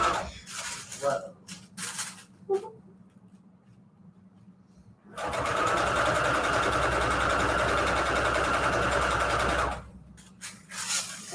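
A sewing machine stitches a string quilt patchwork cover with white thread, running loud and steady for about five seconds, with faint talk and handling noises before and after.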